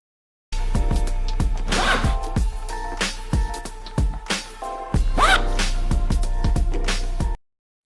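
A YKK zipper on a Citadel R3 backpack is pulled open and shut in a few quick rasping strokes, close up, over steady background music.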